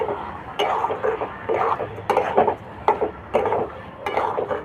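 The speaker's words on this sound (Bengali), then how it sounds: "দিয়ে এটা খুব ভালো করে মেশাবো।" Sweet pumpkin mixture with sugar stirred in a pan for pumpkin sandesh, giving repeated scraping and clinking strokes of a utensil against the pan in a steady rhythm, close and fairly loud with no talk.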